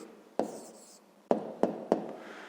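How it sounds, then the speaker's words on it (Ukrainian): Handwriting an answer on paper during a fifth-grade maths exercise: four short, distinct pen taps and strokes, close and fairly quiet, with silence between them. "Отже, записуємо відповідь."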